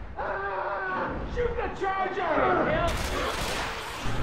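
Rapid gunfire from Left 4 Dead 2 on Expert Realism during a Charger attack in The Passing, sharp bursts cracking through the clip while panicked players talk over the shooting.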